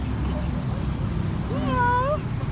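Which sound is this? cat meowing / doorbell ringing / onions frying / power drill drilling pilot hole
cat meowing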